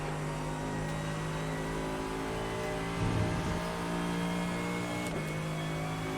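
A race car engine revs hard and holds a steady, buzzing high-rpm drone in iRacing at Zandvoort, surging briefly louder midway through, with no talk over it.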